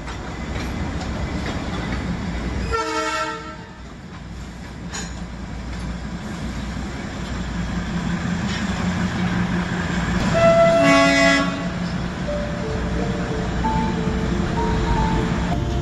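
Darjeeling Himalayan Railway toy train near the Darjeeling station shed, a steady rolling rumble with two short sharp horn toots, one early and a louder one later.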